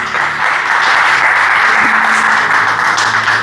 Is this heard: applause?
yes